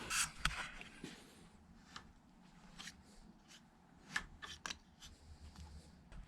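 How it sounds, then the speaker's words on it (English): Scissors or a blade cut the rubber from a motorcycle front sprocket locking tab, giving quiet close snips and scraping rubs, with a brisker burst at the start and scattered cuts after, no speech. "I cut the front bit of that rubber off, which I think is probably the much easier piece to do"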